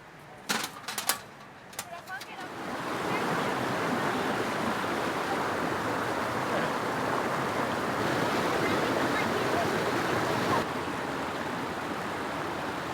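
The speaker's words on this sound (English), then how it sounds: "you just got this like beautiful little stream here flowing next to you" A small stream flows beside a river crossing on a remote 4WD track in Cape York, Australia, making a steady, close rush of water that runs throughout after a few sharp knocks at the start.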